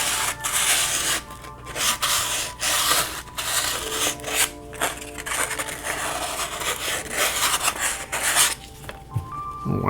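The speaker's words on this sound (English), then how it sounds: "I need to sand this inner part here." Inner part of a ROKR Curious Discovery Solar System wooden model kit being sanded by hand, a steady rasping rub in quick repeated strokes, close and alone.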